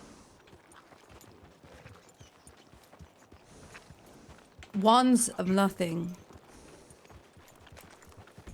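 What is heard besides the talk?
horse hooves clip-clopping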